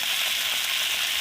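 Hot oil sizzles steadily in a pan as more oil heats for frying kohlrabi pieces after fish heads; a dense, continuous close hiss with no pauses or voices.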